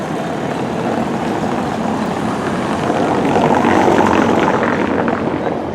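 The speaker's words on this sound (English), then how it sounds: "Listen to the sound of cars on cobblestones." Cars rolling over old cobblestone streets in Philadelphia, a continuous rumbling tire roar that swells as a vehicle passes close, loud and steady with no talk.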